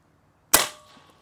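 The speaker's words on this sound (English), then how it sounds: "3 shots through the chrony." A single air rifle shot fired through a chronograph, one sharp loud crack with a short decaying tail, close and alone against near silence.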